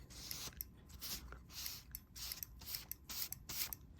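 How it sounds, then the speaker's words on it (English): Faint, repeated sharp clicks from the blower pressure switch on a Rheem water heater, arriving in short bursts at a quick, uneven pace with no talking. "it's clicking right away now"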